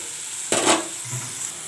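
Small live pond fish (ghusho) frying in hot oil after a light sprinkle of water, giving a sudden loud burst of sizzling spatter that settles quickly into a softer, steady hiss with a few faint pops.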